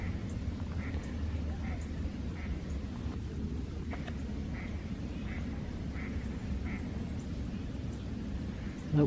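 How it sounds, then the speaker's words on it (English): Ducks in Jefferson Memorial Forest quack on a March morning. The quacks are spaced and fairly regular, faint to moderate, with a soft ambient hum beneath them. "Hear a lot of quacking."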